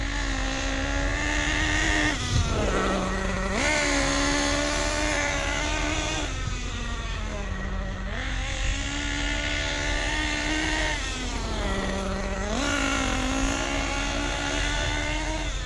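A Losi 8T nitro RC truggy engine runs its break-in with a buzzing, high-pitched whine that swells and drops in repeated throttle cycles, close and steady across the clip.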